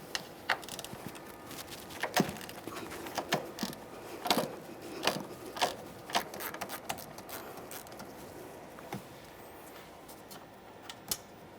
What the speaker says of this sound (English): I'll use my ratcheting wrench inside of this area